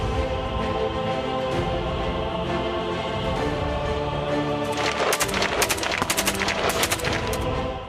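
AK-203 rifles fire at the Amethi gun factory in rapid automatic bursts, sharp cracks stacking into a loud fusillade over a sustained roaring background, with the densest volley in the second half.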